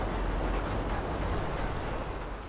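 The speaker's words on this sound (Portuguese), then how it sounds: "lá vem o trem" Train running in the GTA V video game: a dense, continuous rumbling roar, steady and fairly loud throughout, with no distinct clacks and no talk.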